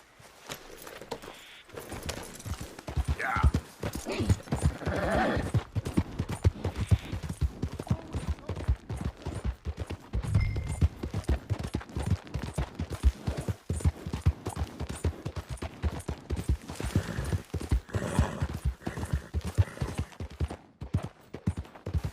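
A horse runs in the Red Dead Redemption 2 video game, with rapid, rhythmic hoof clip-clops that continue throughout, mixed with a busy game soundscape and some voices.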